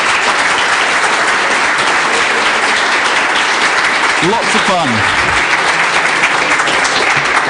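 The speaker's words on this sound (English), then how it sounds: "big hand, applause." Dense, loud applause from a conference audience at a Linux talk, sustained throughout, with a brief voice speaking over it.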